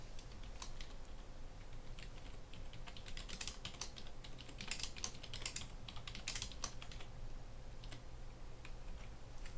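Typing on a computer keyboard to enter an item into an Excel spreadsheet: quiet, irregular key clicks in short clusters over a steady low hum, with no voices.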